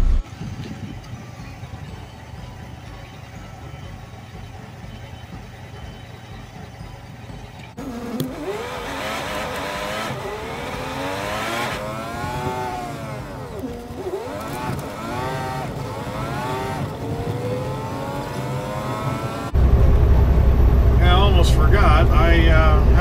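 Loaded semi truck pulling away at about 33,000 pounds on both the drive axles and the rear tandem, its engine a steady rumble that grows busier once it starts rolling, with a heavier, louder burst near the end.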